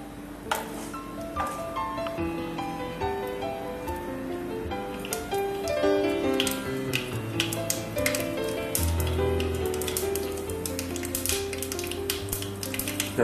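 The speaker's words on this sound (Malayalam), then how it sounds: "കടുക് പൊട്ടി തുടങ്ങി" Mustard seeds crackle and pop in hot oil in a pan as a seasoning for rava idli, many sharp, irregular pops over a soft sizzle, close by and growing busier, with no talk.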